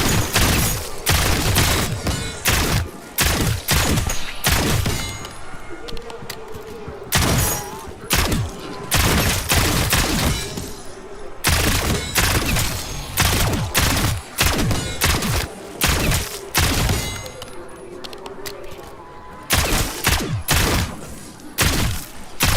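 Ladra SMG gunfire in Call of Duty Black Ops 6 Zombies, loud rapid bursts of automatic fire repeating throughout with short pauses between volleys, plus thuds and impacts.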